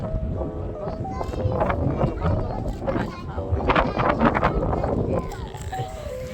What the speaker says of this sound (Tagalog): Nakakalunod yung hangin.